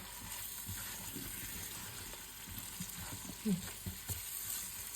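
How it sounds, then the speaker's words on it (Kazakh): Sweet pepper and garlic frying in a pan for a chicken soup, a soft, low-level sizzle with a few light stirring knocks and clinks. "Тәтті бұрышымыз бен сарымсағымызды қуырып алдық."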